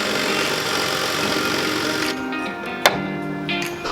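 A drill bit shaving down a carbon fiber trunk part for an FRS/BRZ car, a loud steady grinding whir that drops to a quieter hum midway, with one sharp click near the end.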